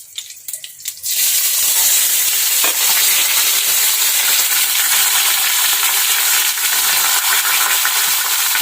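An onion frying in a pan, a steady loud sizzle that starts after about a second of soft clatter and keeps going, with occasional stirring scrapes and no talk.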